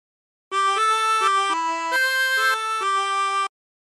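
Harmonica plays the opening phrase of a song, about nine clean reedy notes blown and drawn around holes 6 and 7 in a bouncy rhythm, close and alone, lasting roughly three seconds.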